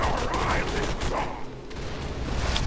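Dense gunfire in the video game Borderlands 2, loud sustained rapid shots and bursts filling the whole moment, with a player's voice faintly mixed in.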